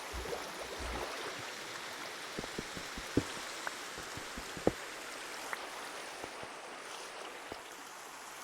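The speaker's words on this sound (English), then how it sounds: "Pouring rain, huh?" Pouring rain in the Minecraft video game heard from inside a cave, a soft, continuous wash of rainfall with scattered faint drips and ticks throughout.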